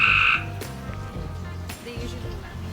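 Frogs croak near a shaded window box planter, a loud burst of calls at the start that gives way to quieter, irregular low croaks and rustling outdoors.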